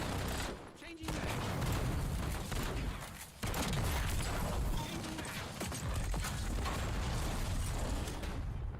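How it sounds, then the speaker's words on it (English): In Call of Duty on Rebirth Island, a gun's magazine is changed amid dense, continuous gunfire and mechanical clatter, with ratcheting clicks buried in a loud, busy battle mix. "Changing mag."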